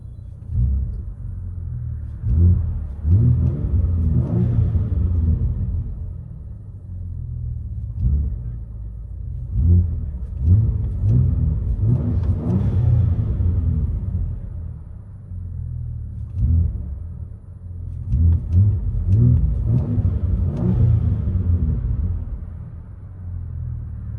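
Cabin of a 500hp Saleen Ford Explorer with straight pipes and a scoop hood, its deep exhaust rumble droning steadily and swelling in several revving surges, loud and close with no talking.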